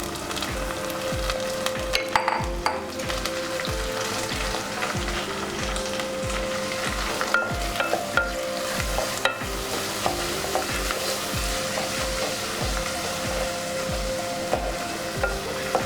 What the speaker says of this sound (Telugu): అందుకే మనం రొయ్యలు బాగా ఫ్రై చేసుకుందాం.